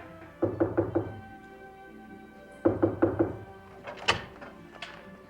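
Knocking on a hotel room door at Niagara Falls: two clear bursts of four quick wooden raps, close and distinct, followed by a couple of softer thuds.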